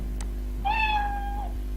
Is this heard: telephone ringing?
no